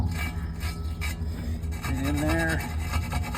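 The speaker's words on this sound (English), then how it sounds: "Just take a little reaming wire brush." A small reaming wire brush scrubs rapidly inside a lug nut hole, producing close, rasping rubs in quick bursts while someone speaks briefly over the scraping.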